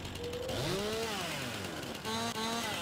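A chainsaw in the Farming Simulator 19 game cuts logs, its engine whining up and down in pitch with a steady loud drone, dipping briefly and revving again, with no talk.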